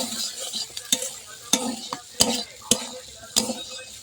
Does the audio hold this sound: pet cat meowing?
no